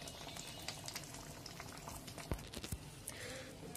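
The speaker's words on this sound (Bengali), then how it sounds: "এরপরে কিছুক্ষণের জন্য এটাকে ফুটতে দেব" Pointed gourd curry simmers in a pot with a soft, faint bubbling and occasional small pops and ticks, quiet and close, with no talking.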